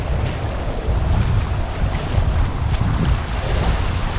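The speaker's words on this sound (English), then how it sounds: "Waves aren't too bad." Ocean waves and wind at Lucas Bay, St. Maarten, a constant loud rush of surf and gusting wind buffeting the microphone, no voices.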